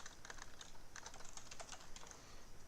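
Fast, steady keystrokes rattle on a computer keyboard while code is typed for a Roblox game script, close-up and continuous with no voices.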